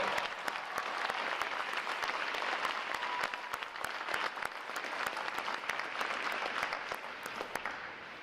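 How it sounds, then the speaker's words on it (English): Sustained applause from a large crowd of family and friends at a U.S. Navy Recruit Training Command boot camp graduation, dense steady clapping filling the hall throughout without a break. "So a round of applause for our family and friends"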